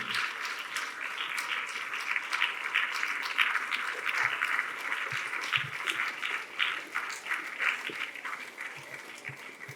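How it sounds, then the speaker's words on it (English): A crowd at a school science exhibition on National Science Day claps steadily, a dense sustained patter of many hands that runs for the full stretch without pause. "A big round of applause to the Little Flower School"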